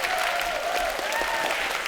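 Audience applause welcoming hosts Mr. and Mrs. Shih on a Taiwanese talk show, a loud continuous wash of clapping with a faint tonal line gliding beneath it.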